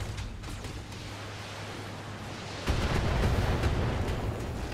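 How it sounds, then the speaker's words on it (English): LRM-15 missile volleys strike a mech in the BattleTech video game: a low mechanical rumble gives way to a heavier roar of rolling impacts partway through, dense and continuous rather than sharp. "he shot at you with 2 LRM-15s"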